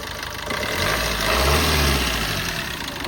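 A 2020 Maruti Suzuki Vitara Brezza ZDi diesel engine idling close by: a steady, loud low rumble with a faint clatter that holds level throughout, with no one speaking.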